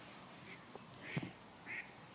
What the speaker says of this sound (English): Maybe you hear the ducks out there.